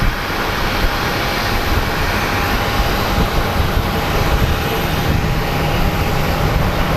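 American Airlines jet at Phoenix Sky Harbor, flight 1083 bound for Austin, giving a steady, broad engine roar that holds at an even level throughout with no distinct peaks.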